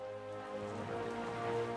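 Steady, soft rain falling, a faint continuous patter heard during a wartime documentary's approach to Rangoon, with a constant low hum underneath.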